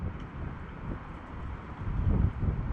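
Strong gusting wind blows across an open outdoor airgun shooting range, a steady low rumbling roar that swells louder toward the end, with no voices.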